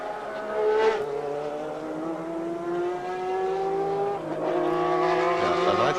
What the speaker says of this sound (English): Quite steady under braking. And Herbert seems to have slowed it right down, or has he?